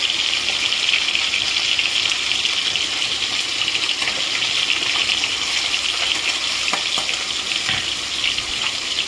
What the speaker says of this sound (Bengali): এবারে আমি এতে দিয়ে দেবো সামান্য জল।